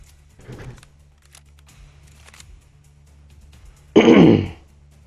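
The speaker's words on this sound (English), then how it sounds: "I'm trying to clear my throat constantly" A man with a cold clears his throat in a short, harsh burst near the mic, after a fainter rasp earlier amid quiet background.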